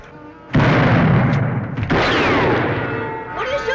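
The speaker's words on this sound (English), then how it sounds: "What are you shooting at me for?" Gunshots fired at a person in an American Western TV drama: a loud sudden blast then a second report, with sustained rumbling echo and a whistling ricochet near the end.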